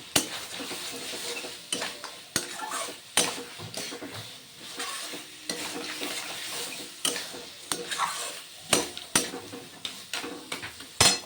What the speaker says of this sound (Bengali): কষানো প্রায় হয়ে এসেছে